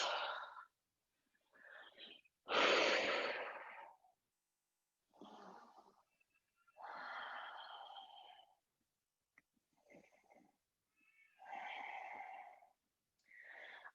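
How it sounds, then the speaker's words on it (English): Deep breathing during a yoga child's pose: a series of slow, close inhales and exhales that come in separate airy bursts with quiet gaps between them. No talking. "take some deep breaths"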